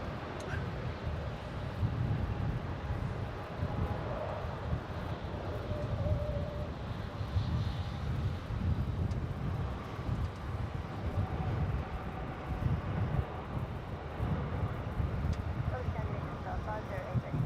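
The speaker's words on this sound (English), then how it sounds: "it's 2:38 with a Boeing 777 off to Singapore" A Boeing 777 taking off for Singapore at Melbourne Airport, a low continuous jet rumble heard from a distance under ongoing conversation.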